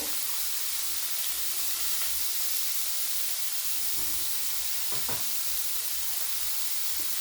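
Broccoli frying in a pan makes a soft, constant hiss of hot oil, heard alone and fairly quiet, with a couple of faint knocks midway.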